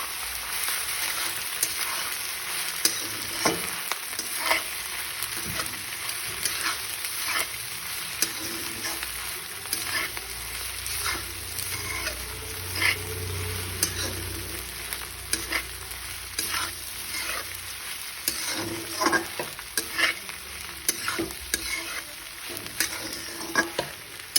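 Food sizzles steadily in a hot wok while a utensil stirs and scrapes through it, with no voices.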